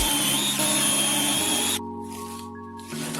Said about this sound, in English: Apply the same tape to a second board and drill holes in the same places.